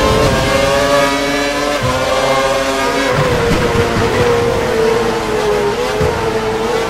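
A Formula 1 race car engine in the F1 2012 video game, racing in Hungary, drones at steady high revs with shifting whining harmonics, loud and continuous throughout.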